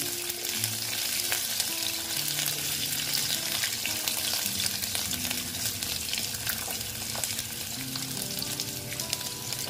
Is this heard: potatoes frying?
yes